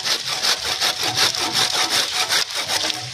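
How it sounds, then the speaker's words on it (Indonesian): A hand saw cuts through an old, mature cassava stem in steady, rhythmic back-and-forth strokes, each pass rasping loudly and close with no talking over it. "Selanjutnya kita potong dengan menggunakan gergaji"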